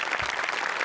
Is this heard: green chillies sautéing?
no